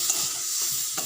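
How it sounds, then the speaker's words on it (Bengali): Dried red chillies and kalonji seeds tempering in hot oil, giving a steady close hiss of sizzling with a couple of faint stirring scrapes, no voices. "শুকনো লঙ্কা আর এই যে কালা জিরাটা ফোড়ন দিয়েছি"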